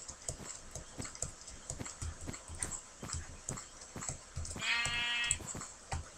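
A sheep in the Minecraft video game lets out a short, clear bleat amid a steady run of rhythmic footstep-like clicks and game ambience.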